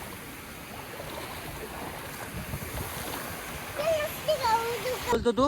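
Steady rushing dam water flows throughout, a broad continuous wash close by, with voices talking over it toward the end.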